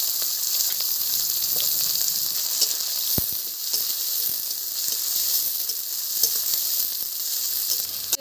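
Chopped onion frying in hot oil for a rohu fish curry, a steady close sizzle that carries on without a break, with a few soft clicks and no voices.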